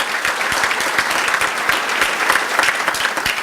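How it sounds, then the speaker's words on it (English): Dense, steady audience applause at a national gala banquet, many hands clapping close and loud with no break throughout. "give a big round of applause to our staff and our volunteers"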